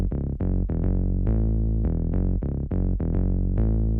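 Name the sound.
synth bass line for a progressive house drop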